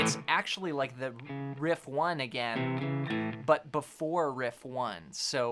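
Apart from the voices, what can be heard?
None of the usual background noises is heard.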